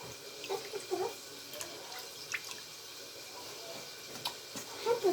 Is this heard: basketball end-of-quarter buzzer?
no